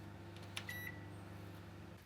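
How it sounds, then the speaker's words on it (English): A microwave oven hums steadily while heating a sponge cake, with a few brief electronic beeps rising over the constant low drone. "Sponge, microwave, 40 seconds."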